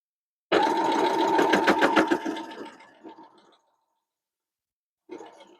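A sewing machine stitches quilt fabric in a quick, even run of needle clatter lasting about three seconds, close to the mic, then trails off, with a short second burst of stitching after a pause.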